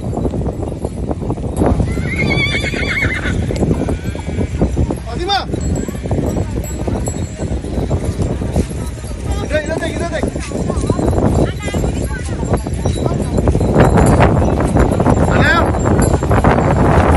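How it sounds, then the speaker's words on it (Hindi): A horse neighs and whinnies on a sandy beach at Alsaif Beach in Jeddah, with loud close whinny calls rising over nearby people talking and moving around the animal throughout. "थोड़ा पास में आते ही मतलब घोड़ा पता नहीं क्यों चिल्लाने लग गया"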